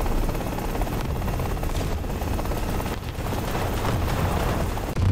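A military helicopter in a Vietnam War video game thunders loud and close, its dense rotor roar steady throughout and mixed with bursts of gunfire and explosions.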